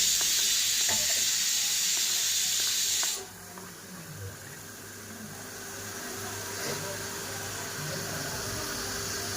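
Fish fries on a tawa griddle with a steady, bright sizzle that cuts off sharply after about three seconds, leaving a softer hiss and faint stirring clatter.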